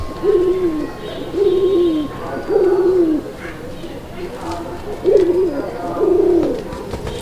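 Pigeons at a pigeon farm coo repeatedly in soft, rolling calls, about five phrases spaced a second or so apart, close by over a low background hum.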